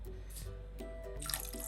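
Water poured into a pan of spicy Kerala fish curry, a soft splashing trickle with faint drips, growing brighter and fuller toward the end, fairly quiet and with no talk.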